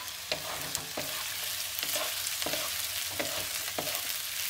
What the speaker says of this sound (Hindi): करीब 1 मिनट तक सौते कर लेते हैं।